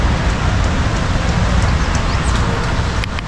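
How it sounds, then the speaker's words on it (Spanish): Steady rain falls on a parked motorhome, a dense, continuous hiss of drops drumming on the roof and body with no pauses, close and fairly loud throughout, with no one speaking. "Mira, estamos juntando algo de agua de lluvia."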